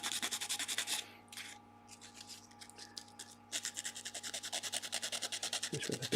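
Hand sanding across the bottom of a small wooden box piece with 180-grit paper, a close rhythmic rasping of quick strokes that pauses briefly in the middle, then resumes steadily.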